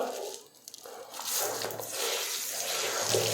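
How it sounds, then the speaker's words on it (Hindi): Water forces out of a broken tap in steady, loud gushing noise after a brief quieter start, with a dip and then a sustained rushing flow to the end. "कितना फोर्स में पानी आना शुरू होता है"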